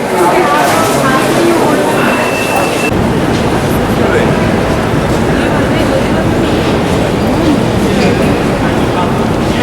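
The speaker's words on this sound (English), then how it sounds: "Moscow metro." A Moscow metro train rumbles loudly and continuously at close range, a dense rattling roar with clacking wheels, while people talk faintly over it.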